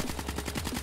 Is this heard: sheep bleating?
no